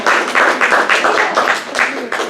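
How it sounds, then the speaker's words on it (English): Audience applause welcoming a guest speaker at a devotional gathering, a steady wash of clapping mixed with crowd voices for about two seconds. "Let's welcome him with a huge round of applause"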